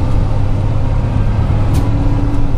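A truck engine drones steadily and loudly from inside the cab as the driver downshifts on a rural delivery route, a constant low rumble with no talking over it.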